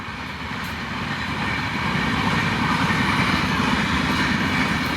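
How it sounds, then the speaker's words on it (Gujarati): A train rolls past on a railway track near farm fields, a loud continuous rumble with clattering wheels that builds slightly and stays close throughout, with no talking. "ટ્રેન જોઈને કેવી સરસ મજાની ટ્રેન હતી"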